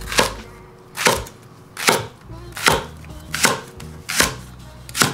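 Big chunks of vegetables for a braise being chopped with a knife on a cutting board, seven sharp, evenly spaced thuds close up with no talking.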